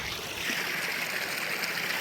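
A small mountain stream at Shasta trickling and flowing steadily, a soft, continuous watery rush heard close by with no talking.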